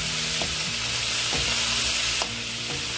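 Bamboo shoots and king oyster mushrooms stir-fried in a pan, a steady bright sizzle running throughout with several sharp scrapes of a utensil stirring against the pan, close and alone without talk.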